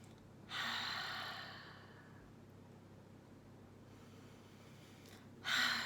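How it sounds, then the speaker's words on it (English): Slow, deep breaths taken close by in a quiet room: a long audible exhale that fades over about two seconds, a soft pause, then the sharp onset of another breath near the end. "just take a couple more deep breaths"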